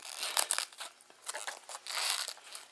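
A knife working into a head of cabbage, with short, close crunching and crackling bursts in an uneven rhythm and no talk.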